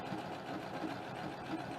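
A sewing machine stitching a quilt strip, a quiet, steady mechanical whir with a fast, even needle rhythm, heard close and alone for under two seconds.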